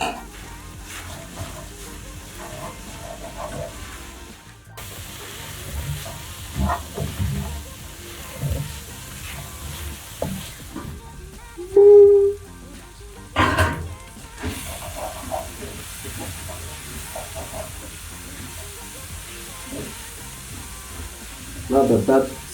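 Carrots frying in a pan with beef juices, a steady soft sizzle that runs throughout, broken by stirring scrapes and clatters, with a voice speaking over it at times.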